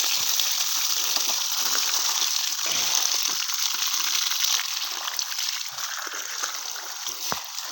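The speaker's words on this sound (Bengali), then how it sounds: "পানি উঠতেছে, আলহামদুলিল্লাহ পানি উঠতেছে।" A battery-powered DC mud pump pushes out a strong, continuous gush of water, close and loud, its rushing splash steady from start to finish with small sloshing variations.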